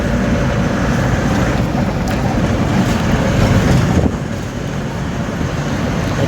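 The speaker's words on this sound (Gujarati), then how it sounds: "આપણા ગામના સ્ટેશનવાળા બોટ દોડાયેલા જાય છે" A boat running across floodwater near a village station, its loud steady engine drone mixed with rushing water and wind buffeting, dipping slightly toward the end.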